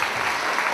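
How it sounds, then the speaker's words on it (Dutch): Audience clapping at a film festival talkshow nominee announcement, a dense, loud, even wash of applause filling the whole brief moment. "Maar ook een applaus."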